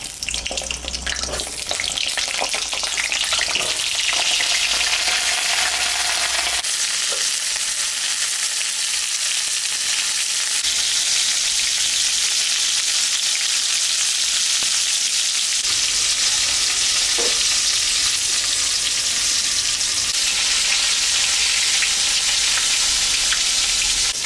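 Pointed gourd (potol) fries in mustard oil in a hot wok, a loud continuous sizzle and crackle that stays even throughout, with a few faint clinks early on.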